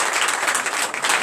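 A church congregation at a night deliverance and prophecy service bursts into dense, loud applause, a continuous wash of many hands clapping close by throughout.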